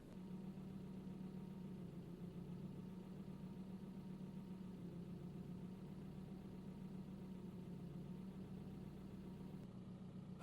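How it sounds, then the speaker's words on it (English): A car engine idles inside the cabin, a steady low rumble and hum that stays even and unbroken throughout with no voices. "I'll move the recorder around a bit so you can just get a feel of where the car sounds different"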